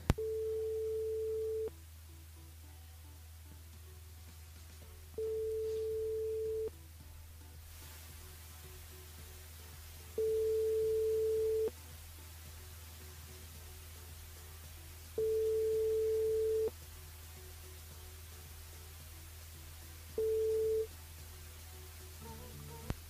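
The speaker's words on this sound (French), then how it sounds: "Bon, Martine, il répond pas." An unanswered phone call during a live radio broadcast gives a steady repeating tone in regular on-off bursts, each lasting about a second or two, over a low hum with no talk.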